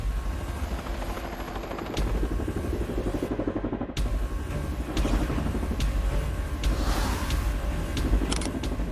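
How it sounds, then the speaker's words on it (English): A Sikorsky S-97 Raider prototype military helicopter roars loud and steady throughout, with a dense rotor and engine rumble, a few sharp transient knocks, and no talking. "This is the Sikorsky S-97 Raider, a next-generation prototype helicopter designed specifically for the U.S."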